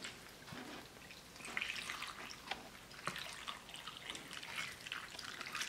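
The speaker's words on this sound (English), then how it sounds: "now we pour the wine over here" Wine trickles and splashes softly into a pot over raw short ribs being set up to marinate, a faint liquid pour with a few small drips and splatters, quiet and close.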